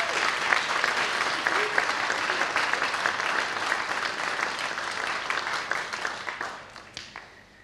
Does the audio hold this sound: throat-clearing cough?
no